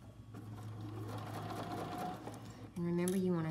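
A sewing machine stitches fabric with a fast, even mechanical whirr, close and steady, for a surgical cap; a voice starts talking over it near the end.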